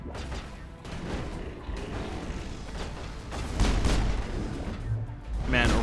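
Gunfire crackles in a Mass Effect firefight, steady clusters of shots and impacts at moderate level with a few heavier bursts near the end.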